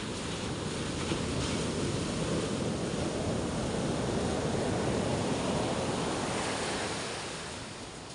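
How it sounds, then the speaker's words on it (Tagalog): Ocean waves wash continuously onto a beach in the Philippines, a steady broadband roar of surf with no voices, easing slightly toward the end. "Malaki daw alon,"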